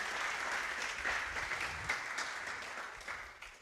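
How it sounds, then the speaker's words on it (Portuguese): A church congregation applauds during a sermon, a soft, somewhat distant patter of many hands that swells slightly midway and then tapers off. "Você pode até aplaudir esse irmão se você quiser."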